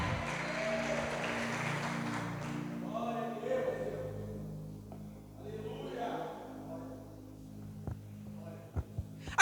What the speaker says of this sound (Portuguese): Aplaude mais forte aí, irmãos.